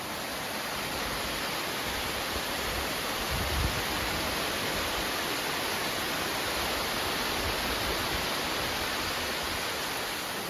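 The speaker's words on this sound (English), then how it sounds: "the sound of the water and stuff" Water flows steadily beside a Scottish loch, a constant broad rushing hiss with no pauses, close and fairly loud throughout.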